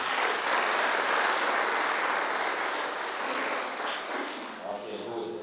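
Mourners applaud at a memorial service, a dense, steady wash of clapping from a sizable gathering that holds for several seconds before thinning slightly toward the end.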